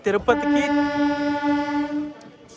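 An Arakkonam–Kadapa MEMU passenger train leaving Renigunta Junction sounds one loud, close, sustained horn blast lasting about two seconds, preceded by a couple of brief knocks.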